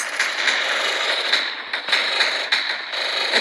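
Dense, continuous gunfire from machine guns in a battle video game forms a harsh, crackling wall of sound with sharper bursts breaking through, loud and unbroken.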